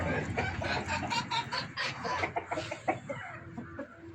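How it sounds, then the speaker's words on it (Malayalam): Hens and a rooster of a spotted backyard flock, five hens and one cock, cluck continuously and overlapping at close range, a busy chatter of short calls with no talking. "5 പെടയും 1 പൂവനാണ് ഇപ്പോൾ ഇതിലുള്ള."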